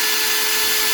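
A Makita cordless drill given a quick trigger blip to free a stuck chuck, a loud, steady high motor whir filling the whole moment.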